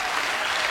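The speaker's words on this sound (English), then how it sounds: "There's the audience." Audience applause from a crowd at a Led Zeppelin BBC Sessions live recording, a steady dense wash of clapping filling the whole short moment with no voices.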